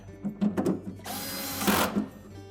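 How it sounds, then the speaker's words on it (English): Retaining screws being driven back into a Whirlpool refrigerator's evaporator fan assembly with a power driver, heard as a short whirring burst between small clicks and handling knocks, close and fairly quiet. "Reinstall the retaining screws."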